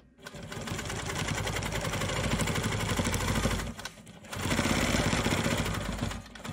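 A Quilt Maker Pro 20 quilting machine stitches around a small stem with a fast, steady mechanical whir that runs continuously, pauses briefly, then resumes at full rate.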